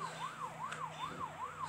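A wailing police siren from the Rope Hero Vice Town video game rises and falls in a steady, regular cycle about every 0.4 seconds, continuous and fairly loud throughout with no talk over it.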